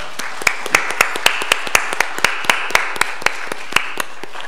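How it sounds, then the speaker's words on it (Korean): A church congregation claps in thanks during a Sunday worship service, giving a sparse, evenly spaced series of sharp claps, about three per second, crisp and close, with no voices over them. "감사의 박수 한번 하겠습니다"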